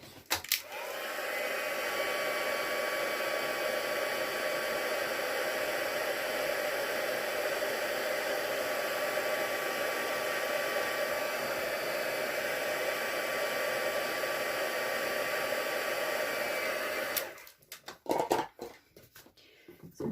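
Heat tool blowing steadily and fairly close while heat-setting embossing powder on a stamped card, a continuous whooshing hum for about seventeen seconds before it clicks off, followed by light handling noises.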